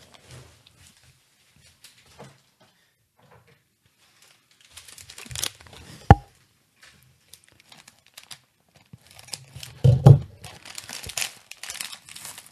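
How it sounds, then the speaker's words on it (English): Intermittent crinkling and tearing of a plastic jelly bean package, with soft rustles building to a few sharp crackles and crunches, close by. "get this little package open"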